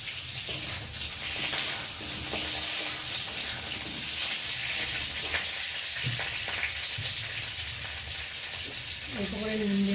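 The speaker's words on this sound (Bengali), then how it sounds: "পটলগুলোকে আগে একটু ভেজে নেব।" Pointed gourd and potato pieces frying in hot oil in a kadai, a loud continuous sizzle with occasional stirring knocks and a short burst of voice near the end.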